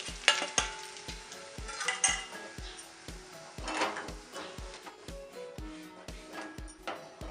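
Wheat flour roasts in vanaspati ghee for barfi, giving a soft sizzle under repeated rhythmic scraping and knocking of a spoon against the pan, steady and close with no talking.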